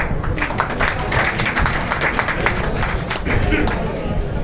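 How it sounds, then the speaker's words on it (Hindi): A crowd at a gathering applauds loudly and steadily, a dense wash of clapping running the whole length, with a voice audible among it. "मैं चाहता हूँ कि आप सब लोग जोर से तालियां बजाएं"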